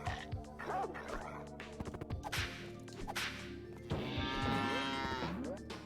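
Cartoonish cow moos sound over bouncy retro 16-bit style game music in the New Junk City platforming level, a drawn-out lowing call rising near the end amid quick sound effects.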